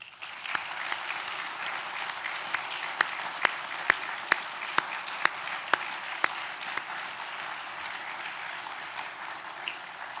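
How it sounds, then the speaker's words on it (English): A conference audience gives a steady round of applause in remembrance of Pamela Stewart, a dense wash of clapping with a few sharper individual claps standing out, continuing evenly throughout without speech. "The more modern thing is a round of applause to remember Pamela Stewart."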